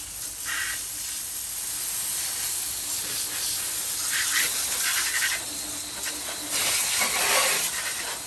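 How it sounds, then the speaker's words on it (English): Steady hissing spray of water rinses a Toyota Tundra engine bay throughout, with a few louder bursts where the jet strikes metal surfaces nearby. "Spray off my grill there a little bit."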